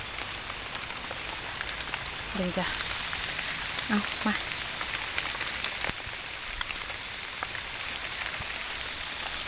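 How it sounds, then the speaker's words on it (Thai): Steady rain falls on a forest while white mushrooms are gathered, a dense continuous patter filling the clip, with a few brief spoken words heard faintly under it. "ฝนตกแล้วก็มืดทันทีเลย"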